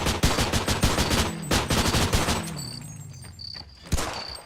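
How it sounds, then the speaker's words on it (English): An M3A1 grease gun submachine gun fires in a video game, a loud close burst of rapid automatic shots for about two seconds, then a few scattered single shots with ringing echoes and high electronic tones. "It's like an M3 submachine gun from World War II. M3A1 grease gun."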